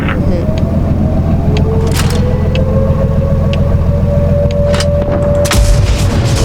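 Tank cannon fire in World of Tanks: a few sharp booming shots spaced seconds apart, loud over a constant heavy engine and track rumble.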